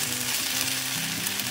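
Small poha uttapams fry in oil in a pan, giving a dense, even sizzle that stays close and constant throughout the short stretch, with no voices.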